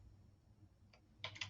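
Typing on a computer keyboard, a short quiet cluster of a few soft clicking keystrokes near the end after a near-silent room.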